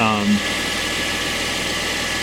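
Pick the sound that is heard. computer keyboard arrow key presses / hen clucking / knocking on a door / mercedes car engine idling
mercedes car engine idling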